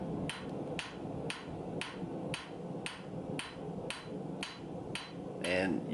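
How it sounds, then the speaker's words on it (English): Heavy hammer blows land on a copper mokume gane billet being forged and flattened, about a dozen loud, evenly spaced strikes roughly every half second over a steady background rumble, growing harder toward the end. "to where I'm swinging harder and harder and harder to just start getting this billet stretched out and flattened down"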